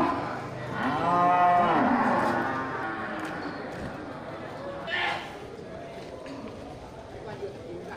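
Large cattle, including banteng-type bulls, moo at a local livestock market, one long call rising over a busy background murmur of people talking.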